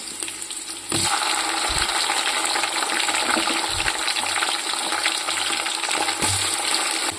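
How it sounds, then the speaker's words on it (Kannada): Tomatoes dropped into a gravy frying in a pan, bringing a steady loud sizzle that swells after the first second, with occasional stirring clunks and a low background hum throughout. "ಇವಾಗ ನಾನು ಇದಕ್ಕೆ ಟೊಮೊಟೊನ ಆ್ಯಡ್ ಮಾಡ್ತಾ ಇದ್ದೀನಿ"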